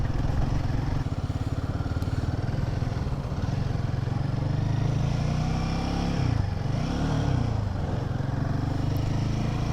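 A motorcycle, recently through its first servicing, is ridden along a road; its engine drones steadily and close throughout, with a constant rumble and wind noise and no talking.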